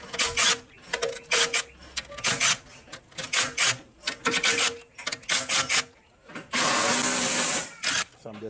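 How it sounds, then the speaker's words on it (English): Bolts being backed off the top transmission cover of a 2015 Toyota hybrid Fielder/Prius C, heard as a close series of short rasping ratchet bursts with brief pauses, ending in a longer steady run. "So I'm just releasing all these bolts on top of this cover."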